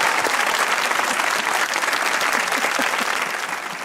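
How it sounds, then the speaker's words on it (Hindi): An audience on a comedy show breaks into sustained, dense applause, steady and fairly loud throughout with a slight fade near the end. "मलिका के लिए तालियां होनी चाहिए"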